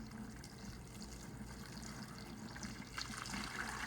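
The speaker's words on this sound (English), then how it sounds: "we're gonna add some warm water" Warm water poured from a tap into a bucket holding a compressed coco peat brick, a steady low rush and trickle, soft and continuous throughout.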